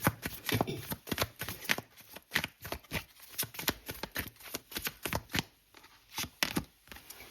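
Tarot cards are shuffled by hand in a quick, uneven run of crisp riffling bursts, close and fairly quiet, with no voice over them.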